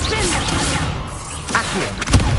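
A fire spell is cast in Hogwarts Legacy: a burst of whooshing flame swells over about two seconds and ends in a thumping impact near the close, loud and up close over game ambience.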